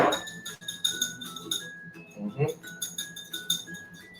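A utensil stirs an egg into milk in a glass, giving rapid ringing clinks in bursts with a short pause midway, close and fairly quiet.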